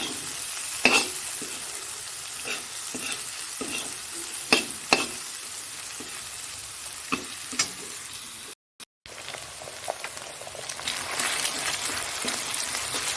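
An egg is cooked into pasta in a frying pan, with steady sizzling and intermittent scraping stirs and knocks of a utensil, broken by a brief dropout.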